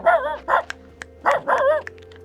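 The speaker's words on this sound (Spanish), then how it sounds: "Mira un perrito aquí." A small dog at a desert shop gives a few sharp, fairly close barks in two pairs, with quiet gaps and faint background hum between them.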